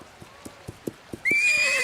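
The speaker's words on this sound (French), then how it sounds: "un cheval sauvage!" A lone wild horse's hooves clip-clop in a steady, moderate rhythm, then a loud, drawn-out whinny breaks in and carries to the end.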